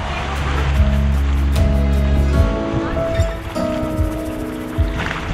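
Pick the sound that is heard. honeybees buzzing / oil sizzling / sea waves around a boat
sea waves around a boat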